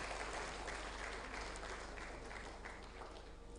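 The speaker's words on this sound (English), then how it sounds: "Please let's put our hands together for her." Applause from a lecture audience at a distinguished lecture, a dense, even patter of many hands clapping, fairly faint and distant, continuing steadily without a break.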